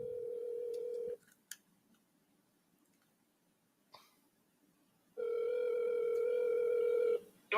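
A telephone call rings out on the line as a long, steady buzzing tone, followed by about four seconds of silence and then a second buzz, heard clearly with no voices.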